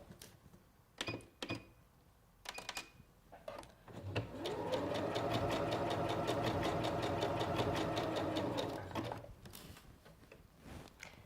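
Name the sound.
Singer Professional 9100 sewing machine sewing a blind hem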